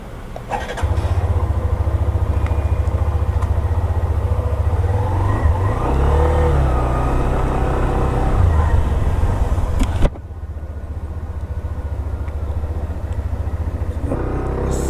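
A Hero Xtreme 125R, a 125cc motorcycle, runs with a steady loud engine drone close to the rider, rising briefly under throttle, then a sudden thump and a lower, quieter running hum.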